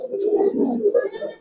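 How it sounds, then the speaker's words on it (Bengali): Old-breed Giribaz pigeons cooing, a close, soft, throaty rolling coo lasting a second or so with no other sound. "প্রত্যেকটা কবুতর একবারে পুরান জাতের পাবেন"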